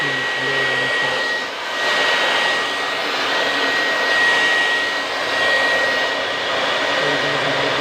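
A blower machine blows steadily on the outdoor unit of a split air conditioner during high-pressure cleaning, a loud continuous whooshing roar that swells slightly and dips briefly but runs without pause.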